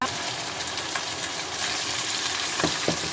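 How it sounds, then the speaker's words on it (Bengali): Fish sizzling in a pan with onion, garlic and sidol dried fish, a steady close frying hiss with a few brief scrapes near the end. "এখন মাছগুলো এটার সাথে একটু ভেজে নেবেন"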